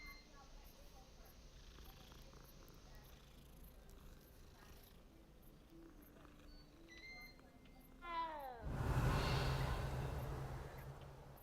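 A cat in the Hogwarts video game purrs steadily through a game soundscape, followed near the end by a brief rising chirp and a louder burst of noise.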